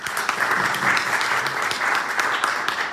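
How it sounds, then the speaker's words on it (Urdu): Members of a church congregation clap together in a sustained, lively burst, individual claps audible within the steady roar, while a faint voice or two mixes underneath. "تالیاں یسوع کے لیے۔"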